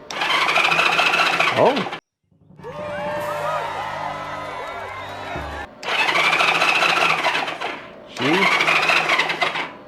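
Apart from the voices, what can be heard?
Honda CB360 motorcycle engine kicking over via solenoid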